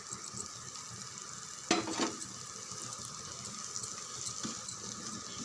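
Chicken masala sautés in a hot pan with a steady, close sizzling hiss, broken by a brief clatter of stirring near the middle. No one talks.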